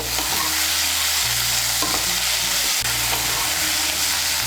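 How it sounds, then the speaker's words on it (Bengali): Chopped coriander leaves and spices fry in a pan for a Bengali aloo dum masala, with a constant loud close sizzle and periodic scraping as the mixture is stirred, and no voices. "ধনে পাতা কুচিটাকে মিশিয়ে নিয়ে একটু ভেজে নিয়েছি"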